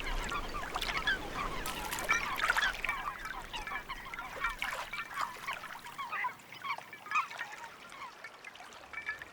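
Water birds in wetlands honk and call in a dense, continuous chorus of overlapping voices, some nearer and louder, others farther off, with no talk.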